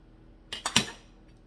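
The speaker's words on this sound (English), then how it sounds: "Now I'm going to cut the top a little bit more." A knife cuts through the top of a raw shrimp being prepared for crabmeat stuffing, giving three quick, crisp clicks close up in a quiet kitchen, with no talking.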